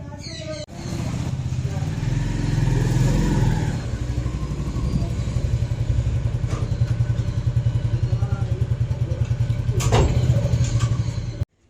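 Close, steady motorcycle engine chugging with a rapid rhythmic putter while the bike is ridden, continuous throughout, with people talking over it and a brief wind-like rush near the end.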